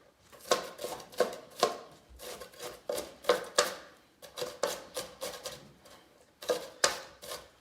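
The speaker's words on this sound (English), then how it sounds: "I'll just rock the knife back and forth" A knife rocked back and forth over a pile of onion on a cutting board, giving a steady run of crisp, close chopping taps in uneven clusters, with no talking.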